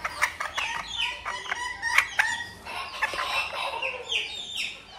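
Small Serama chickens cluck and crow nearby in a quick, busy mix of short calls and high crows, with no clear talk.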